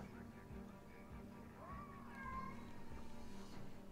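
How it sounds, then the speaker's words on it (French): A cat yowls plaintively behind a closed door, a drawn-out, wavering meow rising and falling over a steady background hum, fairly faint and without clear speech. "J'ai le chat qui fait comme s'il était en train de mourir parce que la porte est fermée."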